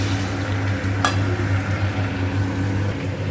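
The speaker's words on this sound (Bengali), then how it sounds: "চিকেনটা দিয়ে নিয়েছি দেন চিকেনটা একটু ভাজা ভাজা করব" Chicken frying in a pan, a continuous dense sizzle with a low steady hum beneath it and a single brief clatter partway through.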